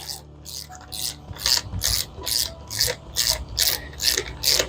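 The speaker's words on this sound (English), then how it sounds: "let me give that a good tighten up to 8 Newton meters. I've already have my torque wrench set." A torque wrench tightens bolts on Canyon aero bars to 8 newton meters, making a close, steady run of about ten rhythmic ratcheting clicks, with no talking.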